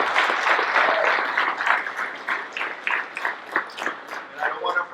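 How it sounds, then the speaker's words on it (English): Applause at a high school Junior ROTC awards ceremony, starting as a full, dense crowd clap and thinning into scattered, rhythmic individual claps that fade toward the end. "So let's give them all a round of applause, okay?"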